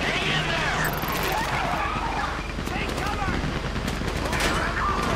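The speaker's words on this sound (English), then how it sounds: "You hear that gunfire?" Dense, continuous gunfire from Grand Theft Auto 5 during a shootout in Paleto Bay, with rapid machine-gun bursts rattling throughout at loud, sustained intensity.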